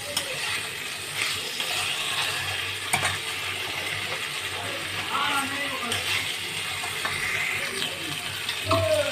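Spices frying in a pan while being stirred, a constant close sizzle with light metallic scrapes and clinks from the spoon, steady throughout with no pauses.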